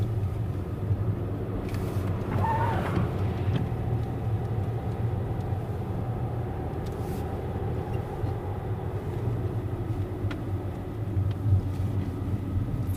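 Cars pass along a roadside near water where ducks gather, a steady broad rumble of traffic running throughout without clear individual pass-bys, fairly close and continuous.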